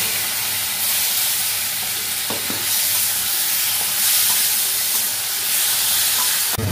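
Tomato paste sizzles steadily over low gas as it is stirred into frying spices for a paneer curry, a constant close hiss with occasional soft scrapes of the spoon against the pan.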